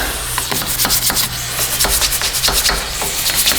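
A rag rubs grease off the rear wheel hub of a Toyota Prius during a wheel bearing and brake job, producing loud, close, continuous scrubbing strokes in a quick back-and-forth rhythm.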